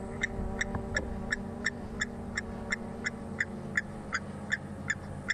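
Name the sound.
bird call likened to a blacksmith hitting an anvil, from bird app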